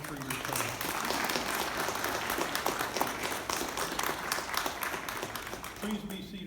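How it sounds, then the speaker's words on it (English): Applause fills the room at a naturalization ceremony, steady and dense for the whole stretch, with a voice speaking faintly at the start and end. "You may applaud for yourself."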